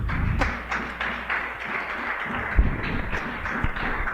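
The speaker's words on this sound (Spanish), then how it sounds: "Dale un fuerte aplauso al Señor" A church congregation during a Spanish-language sermon breaks into applause, brisk overlapping claps with some thumps, fairly loud and close, lasting several seconds.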